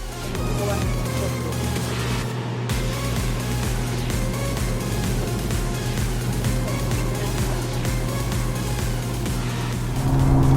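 A Nissan GT-R being driven, heard as a continuous engine and road drone with tonal engine hum, rising somewhat louder near the end.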